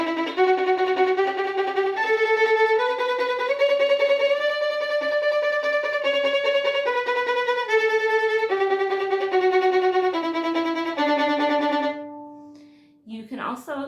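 Solo violin played sautillé, the bow bouncing rapidly with eight quick strokes per note, moving through a slow series of pitches for about twelve seconds, close and steady, followed by a brief pause and a short final note.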